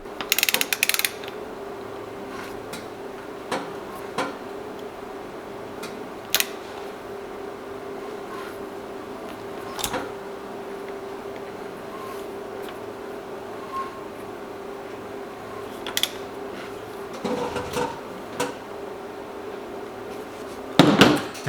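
A hand ratchet turns an engine crankshaft during a timing belt check, giving scattered soft clicks and a few sharper bursts of ratcheting against a steady low hum, close but quiet overall.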